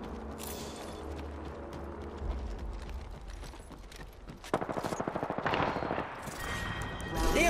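Gunfire in the video game Apex Legends: bursts of automatic weapon fire crack out in rapid strings, including a sharp close volley midway, amid game ambience and other impacts, with no talk.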